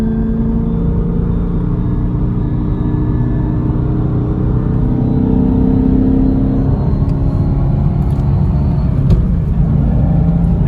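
Fault noise from a Chevrolet Camaro SS transmission in third gear: a loud, steady engine and drivetrain drone with a sustained whining hum that swells slightly partway through, and faint clicks near the end.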